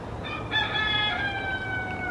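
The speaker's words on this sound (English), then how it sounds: "The peacocks are barking." A peacock's loud, drawn-out call with harmonic, nasal tones rings out over steady outdoor background noise, lasting about a second and a half.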